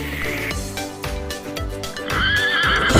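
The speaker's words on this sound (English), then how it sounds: "Horse." A horse neighing in a children's farm animal lesson, a rising whinny that builds toward the end over rhythmic background music, close and clear.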